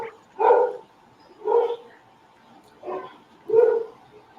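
A dog barks four times in a steady, spaced rhythm, moderately close and loud, outdoors at a backyard barbecue smoking session.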